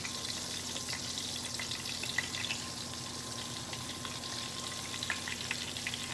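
Cube steak fries in a pan with a steady, close crackling sizzle and scattered small pops, under a faint low hum and with no one talking.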